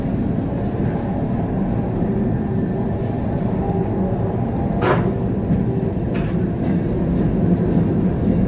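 A Norfolk Southern freight train rumbles past steadily in Elkhart, Indiana, a dense low roar with occasional metallic clanks and squeals, continuous and fairly close with no voices.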